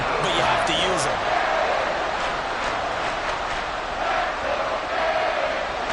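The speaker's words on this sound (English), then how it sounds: "this crowd doing their best to make a lot of racket" Stadium crowd noise in the Madden 25 football game during a Jaguars vs Dolphins matchup, a loud, continuous roar of cheering fans, with brief voices and faint thuds over the top.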